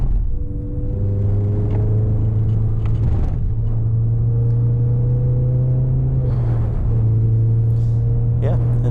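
Road-going Renault Clio 197 on a gentle cool-down lap of the Silverstone Grand Prix circuit, heard from inside as a steady droning engine hum with slight pitch shifts, loud and constant throughout.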